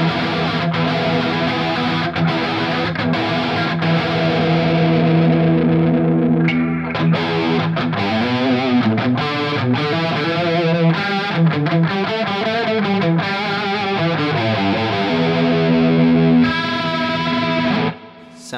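Distorted electric guitar played through a 30-year-old Rocktek CHR-01 chorus pedal set to high depth and low rate, with sustained chords swelling into a deep, wobbling pitch modulation, loud and continuous, played alone.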